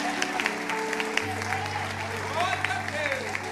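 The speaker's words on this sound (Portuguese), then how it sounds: "Aplauda o Senhor bem forte." A church congregation applauding during a service, quick clapping under sustained keyboard tones and voices, brief and moderately loud.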